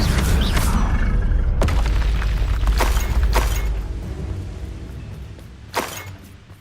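A Bombarda blasting spell from the game Hogwarts Legacy goes off as a loud, rumbling boom, with several sharp crackling bursts and a last smaller hit as the blast fades.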